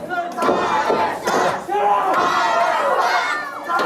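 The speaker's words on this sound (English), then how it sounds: "What a great shot of that wonderful crowd." Wrestling arena crowd cheering and shouting loudly and continuously, a dense roar of many voices with rising yells throughout.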